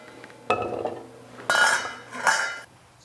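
Chopped pieces, cut into small bits, are dropped and scraped into a metal pot in three separate bursts of clinking and clattering, close and fairly loud, with near silence between.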